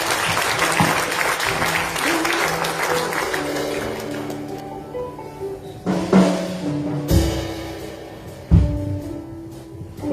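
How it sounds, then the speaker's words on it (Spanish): A church congregation on Palm Sunday applauds loudly for several seconds, the dense clapping dying away midway, followed by a few sharp isolated thumps and knocks in a quieter room. "Un aplauso al Señor con ganas"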